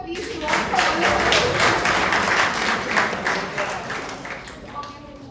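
An audience at a tech talk on Go concurrency claps loudly and densely for a quiz winner, a steady burst of many hands that fades slightly over about five seconds.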